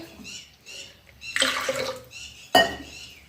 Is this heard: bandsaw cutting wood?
no